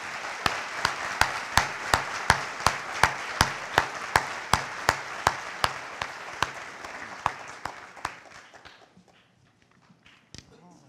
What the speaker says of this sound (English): We could give them all a round of applause.